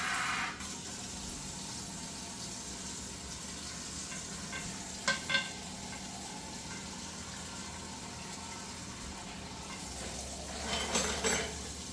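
Beef stew meat browns in a pan while being prepared for canning. A soft, steady sizzle runs throughout, with brief clinks of a utensil against the pan near the start and again near the end.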